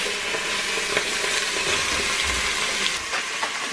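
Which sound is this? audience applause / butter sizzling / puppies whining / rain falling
butter sizzling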